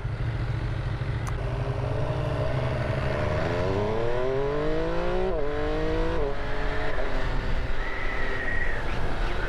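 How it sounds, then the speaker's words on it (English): MV Agusta F3 800 sport motorcycle engine starting up and rising in pitch, a loud, steady mechanical drone with a sweeping rev throughout, close and continuous with no talk. "you need to be in neutral with your clutch pulled in and your kickstand down to start it"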